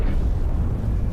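Bomb explosion in a naval battle, a deep, sustained low rumbling boom that is loud and fills the whole short stretch without pause.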